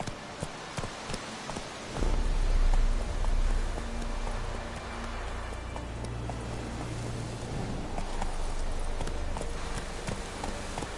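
Roach, the horse in The Witcher 3, breaks into a gallop. Rhythmic hoofbeats clop steadily over a wet, rain-like hiss, with a low rumble swelling near the start.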